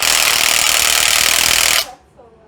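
A 12-volt power driver spins loudly at close range while loosening a fastener, a steady buzzing whir that cuts off abruptly near the end, leaving quiet room tone.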